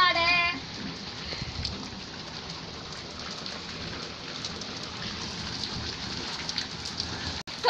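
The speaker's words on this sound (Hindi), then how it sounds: "छत पे बहुत अच्छा मौसम है, बारिश हो रही है" Rain falling steadily on a rooftop, a dense close patter with a brief higher clatter at the start and a short break near the end, with no speech.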